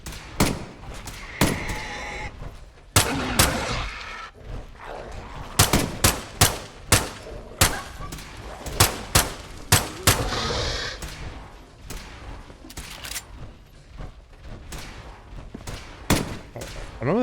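Gunfire in Fallout 4 rings out as sharp, loud shots, some single and some in quick clusters, spread irregularly across a long firefight with occasional voices in between.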